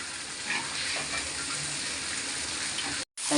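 Vegetables frying together in a pan give a steady, close crackling sizzle that runs evenly throughout, with a brief dropout near the end.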